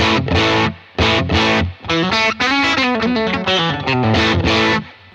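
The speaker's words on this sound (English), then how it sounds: "Basically just an overdrive at this point" An electric guitar runs through a JHS Fumble overdrive pedal turned all the way up, giving a thick, gritty, saturated tone. Loud strummed chords and choppy bursts come with short pauses between phrases. No one speaks.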